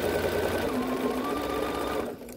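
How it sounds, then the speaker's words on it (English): A home sewing machine runs steadily, stitching the side seam of a garment with a close, continuous whirring hum that stops abruptly just before the end. "So I'm stitching up my side seam."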